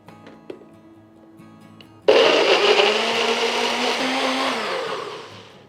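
Two large tomatoes pureed in a blender. The motor kicks in suddenly after a quiet stretch and roars loud and steady for several seconds, then eases slightly toward the end, with no talking.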